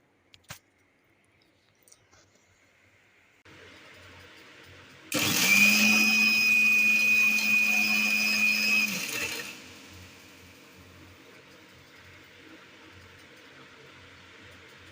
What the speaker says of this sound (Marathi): ही आपण घालून आता सर्व मिक्सरला लावून बारीक करून घ्यायचं आहे